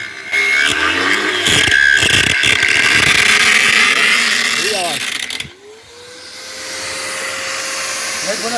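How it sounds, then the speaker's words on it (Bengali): A pressurised drinking water pipe being drilled with a loud, grinding machine whine that runs steadily for about five seconds, then cuts off and gives way to a rising motor tone, with voices talking in the background. "দেখো কীভাবে ফুটো করছে ভীষণ প্রেশার দিয়ে এবং প্রচুর আওয়াজ দিয়ে কিন্তু হচ্ছে ফুটোটা"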